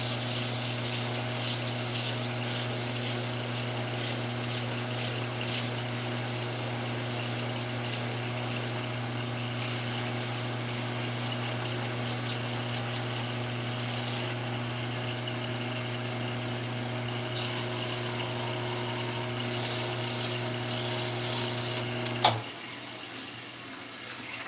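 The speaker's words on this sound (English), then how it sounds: "I'm going to try to sand it, but sanding wet" Steady wet rubbing and scraping as a wet wooden top is sanded over a constant motor hum, continuing for about twenty seconds before the hum cuts off. No one speaks.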